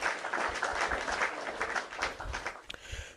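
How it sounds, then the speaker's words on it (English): One person claps hands in a fast, steady run of close, bright claps lasting about three seconds, thinning out near the end. "I'm going to clap for everybody just to thank you."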